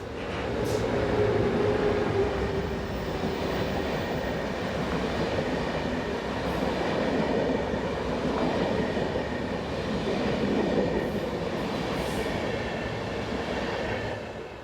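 A Railjet passenger train hauled by locomotive 1116-247 rumbles past on the Vienna to Graz line, a loud, continuous rolling roar with steady wheel noise that swells slightly and holds for the whole stretch.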